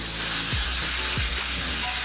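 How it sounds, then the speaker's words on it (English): Shrimp paella sizzling steadily in a pan on the heat, a loud continuous hiss with a couple of brief low clunks as it cooks. "I call this peak sizzle right now"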